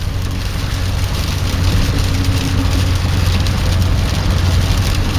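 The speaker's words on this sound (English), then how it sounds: "M6 in the rain" Steady hiss of rain and road spray under a constant low engine and tyre rumble, heard from inside a Ford Cortina moving on the M6 motorway.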